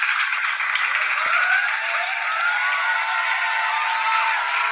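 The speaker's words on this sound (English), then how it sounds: "Applause, applause, applause," Applause fills the room after a poetry set, a continuous wash of clapping from the audience with a few faint whoops mixed in, steady and moderately loud.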